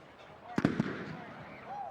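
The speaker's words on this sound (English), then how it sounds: "And the cannon goes off, signifying a penalty, I suppose." At an outdoor football game, a cannon fires with a sharp blast and a couple of quick echoing cracks, heard amid crowd noise and a commentator's voice.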